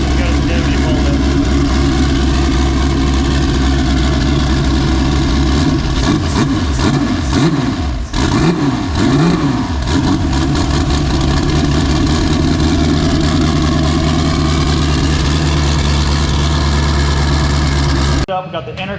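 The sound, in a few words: car engine idling after clutch replacement, Porsche 935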